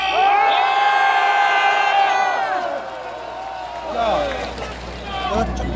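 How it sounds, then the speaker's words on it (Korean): Voices of a rally crowd at Cheonggye Plaza, Gwanghwamun, rise in loud shouting and cheering, long drawn-out calls overlapping, then ebb and swell again with a low rumble underneath. "여러분이 큰 함성으로 동조해 주시기 바랍니다"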